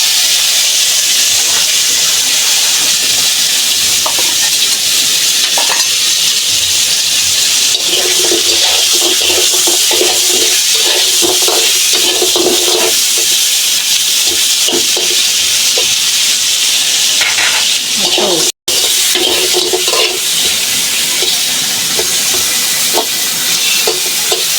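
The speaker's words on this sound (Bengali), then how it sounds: "মাথা ভাজবাম।" Fish head frying in oil in a pan for a lentil dish, a loud, continuous sizzle and hiss heard up close for the whole stretch, with no voices.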